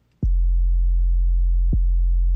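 A dry, undistorted 808 sub bass in a mix: two deep, clean sine-like booms, each opening with a short downward pitch click and the first sustaining loud and smooth, with no other sounds.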